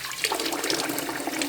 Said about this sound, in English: All I do is kind of rinse this off